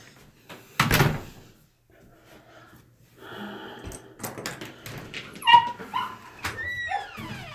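Dogs at home react to the door, with one loud bark near the start, then whimpers, yips and high whines, mixed with door and cupboard knocks and clatter.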